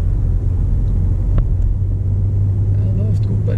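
Car pulling away during a first driving lesson, its low engine rumble steady and close inside the cabin, with a few faint clicks and light knocks over it.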